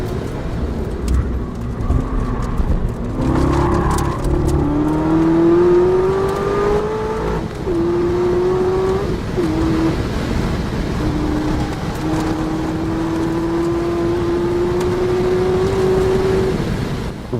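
Corvette ZR1 at speed on the Nurburgring, its engine revving loud and close with pitch climbing through each gear, dropping sharply at shifts, then pulling up again in a long sustained run.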